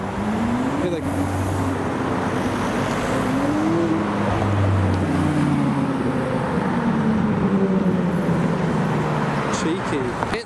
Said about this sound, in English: It's a Nismo 370Z